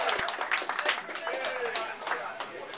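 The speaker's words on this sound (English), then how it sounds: "Keep that applause going for Butch Cassidy" Audience applause at a roast for Gary fills the room with a dense, steady patter of many clapping hands, continuous throughout, mixed with voices.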